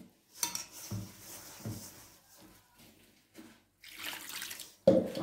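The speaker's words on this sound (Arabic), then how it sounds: "غادي نديروا ليها الماء سخون" Hot water is poured onto semolina in a bowl for making mekhmer, with splashing and pouring bursts alongside clinks of dishes, close and fairly quiet, broken by short pauses and ending in a louder splash.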